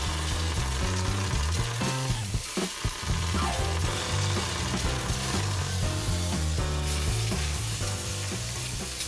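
Pineapple pieces sizzle in a hot frying pan, a loud continuous crackling fry with scraping stirring noises throughout.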